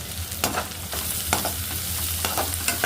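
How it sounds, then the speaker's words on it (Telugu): Rice with curry leaves fries in a pan with a steady loud sizzle, while a spoon stirs and scrapes through it in repeated short strokes. "కరేపాకు అన్నీ వేసి ఇలా ఫ్రై చేసుకోవాలి కొంచెం హాఫ్ ఫ్రై"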